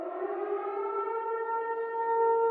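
Civil defense style siren in a horror-game parody advertisement, a steady loud wailing tone with stacked harmonics that holds and slowly swells over a few seconds, with no voices.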